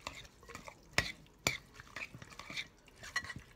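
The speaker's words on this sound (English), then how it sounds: "I'm just going to mix it in." A spoon mixes carrots and onions into a dish, making soft scraping and stirring sounds broken by a few sharp clicks of the spoon against the bowl, quiet and close.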